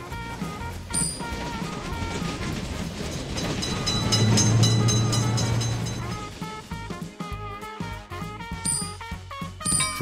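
In a railroad crossing simulator game, a passing train fills the scene with continuous rumbling and clickety-clack wheel noise, peaking loudly midway before easing off, layered over steady tonal game sounds.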